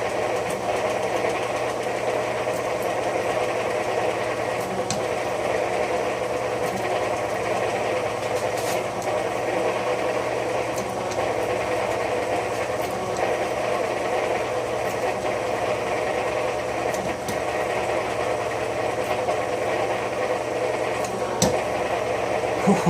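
Cochrane Bly slotter head taking a full-width cut, a steady loud mechanical drone with machine vibration throughout and a few sharp knocks near the end.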